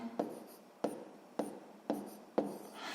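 Pen strokes writing numbers on paper during a sixth-grade math exercise, five distinct scratchy strokes at a steady rhythm about half a second apart, close and fairly quiet, with no voices.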